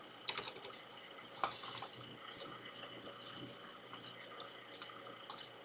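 Typing on a computer keyboard sounds as faint, fairly quiet key clicks in an irregular patter, with a few sharper taps against a low background hum.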